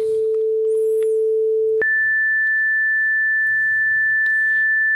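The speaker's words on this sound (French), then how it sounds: "il tourne à 440 Hz, qui est le La, et c'est une sinusoïde" Pure synthesized sine tone from a live-coded program, held steady at 440 Hz, then jumping abruptly to a higher pitch that continues evenly, loud and clean with faint room noise beneath.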